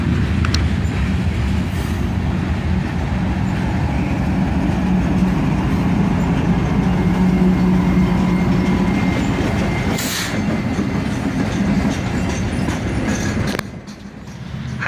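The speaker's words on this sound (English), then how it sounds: "An ES44 ACH and an SD40-3 running in the middle of train as distributed power" A freight train with ES44AC and SD40-3 locomotives running mid-train as distributed power rolls past close by, a loud continuous rumble of engines and wagons with wheel clatter and occasional squeals.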